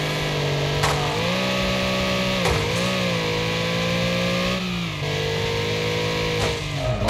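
Panther RS car engine in Wreckfest, racing at Rockfield Roughspot in a rumble race, revving loud and continuous with rising and falling pitch as gears shift, close and steady throughout.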